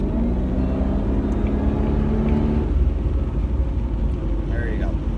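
Supercharged engine of a 2001 Jaguar XKR pulls under steady acceleration from inside the cabin, a continuous moderate engine drone with faint supercharger whine, while someone talks over it.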